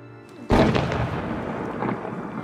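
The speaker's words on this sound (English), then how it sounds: "Oh, fireworks." Fireworks burst at an outdoor evening date event: a sharp, loud boom lands after a short lull, followed by rumbling, crackling tails and a second softer burst, with no voices in between.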